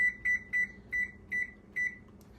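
An oven control panel gives six short, evenly spaced electronic beeps while being set to 400 degrees, with faint kitchen room noise between the beeps.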